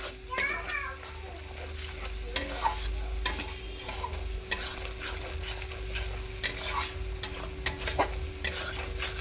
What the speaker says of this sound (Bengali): আগে মশলাটা ভালো করে কষিয়ে নিই